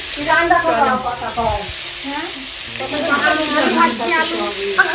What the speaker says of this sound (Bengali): আলু ভাজছে পিসি